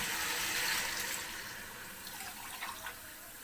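Water poured from a half-kilo mug into a pot of nihari, a soft continuous splashing pour that tapers off, fairly faint and with no speech.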